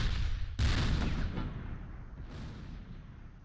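Tank cannon fire in the Close Combat World War II strategy game opens with one sudden loud boom that rolls off into a long rumbling decay. A fainter report follows, with no talking.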